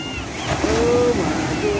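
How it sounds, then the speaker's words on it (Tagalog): Strong ocean surf at a beach, a continuous close roar of breaking waves with wind buffeting the microphone throughout; a voice is faintly heard. "So ito yung alon talaga."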